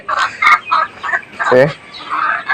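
A black hen that has begun laying eggs clucks in short, close bursts, several broken calls in quick succession with a louder squawk in the middle.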